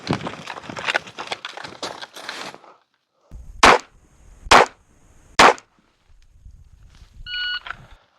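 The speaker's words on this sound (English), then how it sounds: "We will draw and fire 3 rounds." Three sharp, loud pistol shots spaced about a second apart in a timed shooting drill at a range. A flurry of rapid crackling comes before them and an electronic timer beep follows.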